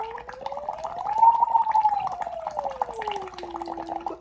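Water bubbles through a straw in a party cup while a voice hums a siren. The hum slides up in pitch and back down, and a fizzing, crackling burble of bubbles runs beneath it.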